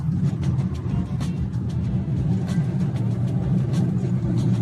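A BMW Z4 pushes hard at speed, its engine a loud, continuous low roar with wind and road rush, and faint voices beneath.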